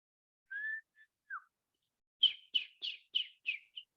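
Small birds calling: a few clear whistled notes followed by a rapid series of six sharp chirps, close and alone against silence.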